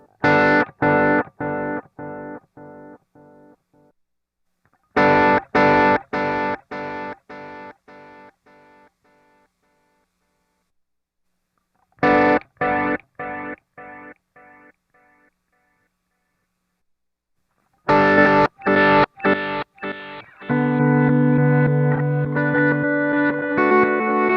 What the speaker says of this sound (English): run through all of the extremes of the delay parameters just so you can hear what this pedal is capable of